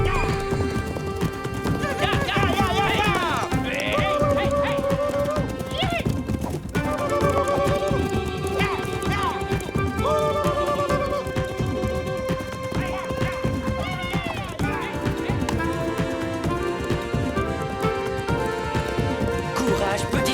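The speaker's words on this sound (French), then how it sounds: "Un poney sauvage! Capturons-le!" Rhythmic clip-clop of a wild pony's galloping hooves with whinnying, set against loud dramatic orchestral music that runs throughout, in a French cartoon.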